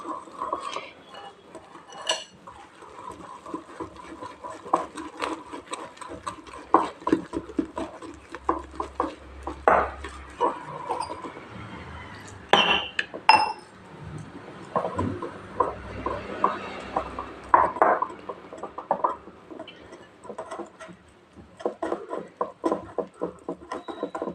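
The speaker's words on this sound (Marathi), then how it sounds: "एक दहा मिनटासाठी असं फेटायचं आहे एकाच डिरेक्शनमध्ये फेटायचं आहे" Dhokla batter beaten by hand in a bowl, a quick run of close clinking and tapping strokes against the bowl's sides, steady and busy throughout with a few louder knocks, no talking.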